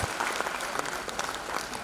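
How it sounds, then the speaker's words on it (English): A short burst of steady audience clapping for a guest at a Fiesta 2025 evening event, a dense even patter heard alone without talk. "I want everybody clap for our guest"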